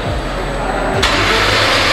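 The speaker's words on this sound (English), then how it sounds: "Start up on the straight pipe Mercy" A straight-piped Mercedes SL65 AMG Black Series, rated at 770 horsepower, cranks and fires with a sudden loud bark partway through, then settles into a deep, rough idle close by.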